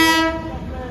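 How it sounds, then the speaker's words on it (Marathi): A passenger train pulling into a station sounds a loud, brief horn blast that fades quickly into a low rumbling of rolling cars. "फायनली ट्रेन आलेली आपली."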